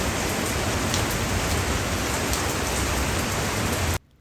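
Steady, heavy rain pours down in a dense, even hiss for about four seconds, then stops abruptly into near silence.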